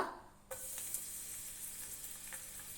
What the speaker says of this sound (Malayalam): എണ്ണ ഒന്ന് ചൂടായി വരുമ്പോഴേക്കും അതിലേക്ക് ഒരു ചെറിയ കഷ്ണം ഇഞ്ചി ചതച്ചതും ഒരു 5 അല്ലെങ്കിൽ 6 വെളുത്തുള്ളി ചതച്ചതും കൂടെ ചേർത്ത് കൊടുക്കുക.